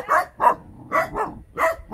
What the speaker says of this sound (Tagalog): Ayan po yung mga aso. Natahulan po nila ako.